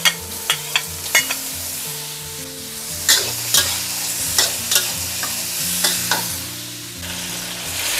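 Diced tomatoes hitting a pan of cooked potatoes and being stir-fried, a steady sizzle broken by repeated sharp clacks and scrapes of a utensil against the pan, close and alone.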